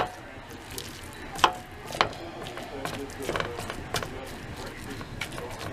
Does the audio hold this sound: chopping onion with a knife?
yes